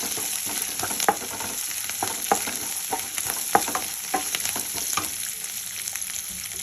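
A tempering of green chillies, curry leaves and a little coriander fries in hot oil for hulі avalakki, giving a steady close sizzle with scattered sharp crackles and pops and occasional spoon-stirring scrapes.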